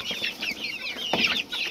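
Several chickens, two hens and a rooster, cluck and chatter close by in quick, uneven bursts, a busy run of short calls.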